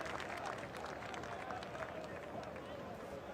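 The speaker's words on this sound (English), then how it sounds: "Clapped, the applause go round." Spectators at a New Zealand v England cricket Test match applaud in a steady, broad wash of clapping that lasts throughout, with a voice faintly audible underneath.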